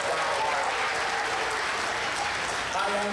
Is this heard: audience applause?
yes